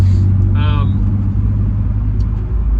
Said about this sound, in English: So here I am in the race car.